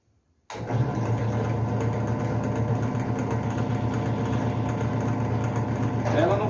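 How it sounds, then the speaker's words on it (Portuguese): A bench drill press, model FG009, switches on after a moment of silence and settles into a steady, fairly quiet motor hum that runs evenly to the end. "Vamos ligar a máquina agora."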